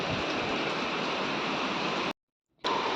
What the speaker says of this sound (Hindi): देखो कितनी भयंकर बारिश हो रही है